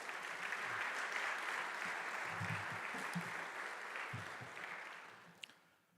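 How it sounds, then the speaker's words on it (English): A university audience at a State of the University address breaks into sustained applause, a dense, steady wash of many hands clapping that holds for several seconds before tapering off toward the end. "You may applaud."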